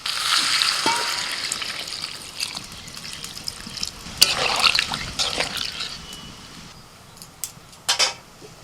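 Water poured into a pan of cauliflower and potato curry, giving a steady trickling, sizzling splash at first that fades into softer bubbling. A few clinks of a spoon or utensil come near the end.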